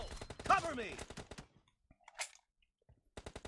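Gunfire in a shooting video game, a rapid burst of sharp, close shots followed after a pause by another quick volley, with someone talking over the first part.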